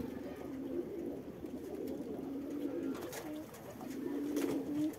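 Pigeons cooing in the morning, soft low coos repeating in short rolling phrases, fairly close but quiet over faint background noise.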